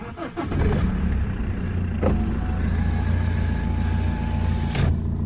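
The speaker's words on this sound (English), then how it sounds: "So let's start the car." A BMW car engine cranks and catches, then settles into a steady idle hum with a faint whine and a couple of clicks.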